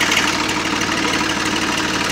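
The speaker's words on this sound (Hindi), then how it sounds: "ट्रैक्टर सिलो पे चल रहा है" A Massey Ferguson 7250 tractor engine runs steadily while driving a water pump through its PTO, a loud, continuous diesel rumble with fast, even knocking pulses and no talk.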